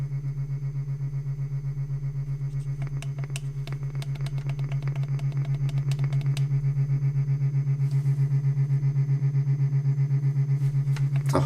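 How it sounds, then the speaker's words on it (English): A Roffie white noise sound machine plays a steady low electronic hum with a faint regular pulsing, close and continuous, with some light handling clicks over it. "It's a humming sound."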